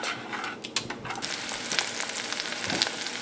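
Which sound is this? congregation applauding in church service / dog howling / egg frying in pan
egg frying in pan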